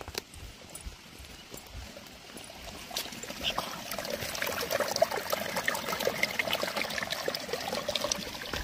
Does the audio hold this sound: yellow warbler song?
no